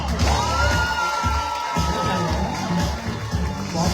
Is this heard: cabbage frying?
no